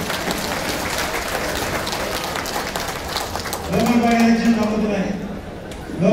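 A crowd at a district BJP political gathering claps in a dense, fairly loud stretch for several seconds before a voice begins speaking over the fading applause.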